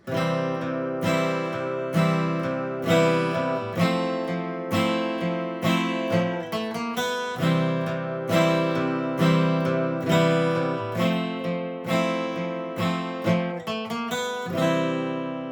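Acoustic guitar strums chords in a steady rhythm, repeated down strums ringing out with full, bright harmonics, played alone without any voices.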